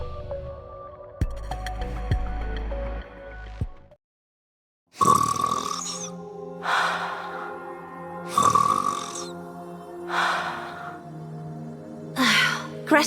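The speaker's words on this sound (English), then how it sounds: "Gretel and I think Ave's snoring is goddess level." A character in the video game Goddess of Victory: Nikke snores loudly in repeated long, rasping, rhythmic bursts after a brief silence, with game music running underneath.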